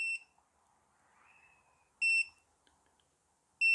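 An EV charging unit (EVSE) gives sharp, high electronic beeps while being set to 8 amps: one at the start, another about two seconds later, and a third at the end, clear and close against near silence.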